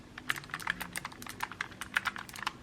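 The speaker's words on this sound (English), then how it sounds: "Look at this gorgeous keyboard, and then listen to the sound." Rapid, clicky keystrokes from a mechanical keyboard, close up and steady, with sharp individual taps in an uneven typing rhythm and no talking.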